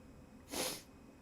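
A single sneeze bursts out nearby, short and sharp, breaking a quiet indoor background with no talking.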